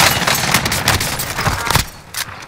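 Rapid bursts of automatic gunfire and loud shots in the online shooter game Call of Duty: Warzone, dense and close, then trailing off into a few scattered reports.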